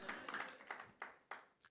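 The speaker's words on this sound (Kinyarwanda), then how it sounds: "Dukomere Imana amashyi." A church congregation claps for God in a quick, uneven run of hand claps, quiet and distant, fading into a few scattered final claps.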